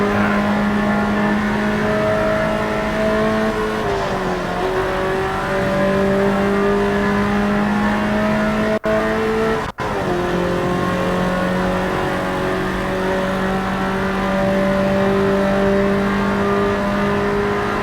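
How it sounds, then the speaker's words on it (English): A high-powered car in a racing video game revs and holds its engine note, with steady harmonic tones shifting pitch as it accelerates and shifts, loud and continuous with brief cuts near the middle. "This car has immense power."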